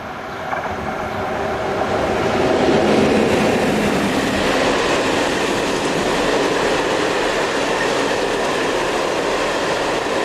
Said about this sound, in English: Our final sequence shows 1063-031 piloting new 1016-036 through the little used station at Oberlaar.